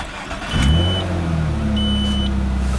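A 1995 Nissan Maxima engine cranks and catches, the starter whine giving way to a steady, fairly loud idle with a few high electronic tones over it.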